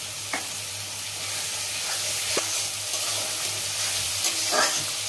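Spice paste masala frying in oil while being stirred, a continuous close sizzle with hiss and a few scraping stir strokes, no speech.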